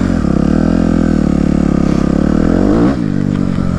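A four-wheeler ATV engine runs loud and close at high revs, a dense buzzing drone that holds steady and then dips briefly near the end, with no voices.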